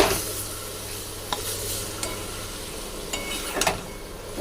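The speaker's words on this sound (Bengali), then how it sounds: "একটু ভালো করে কষে নেব" Kochu (colocasia) greens cooked with coconut sizzle steadily in a pan while being stirred, with a few sharp scrapes and clinks of the spatula against the metal, close up with no voices.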